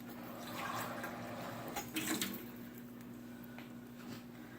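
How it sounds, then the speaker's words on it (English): Water runs steadily into a pot of condensed chicken stock, a soft continuous pouring with a brief louder splash midway, close by in a quiet kitchen with a faint steady hum underneath. "I'm going to add some water too."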